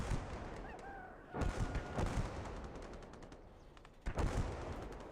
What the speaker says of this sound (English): I'm gonna wait for the mortar strike to engage.